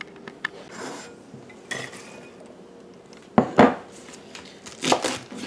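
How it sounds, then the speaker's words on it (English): A knife crunches through cabbage on a board in a few separate strokes, with quiet scraping between the louder cuts, chopping it small for chow chow. "Cutting our cabbage up into small pieces."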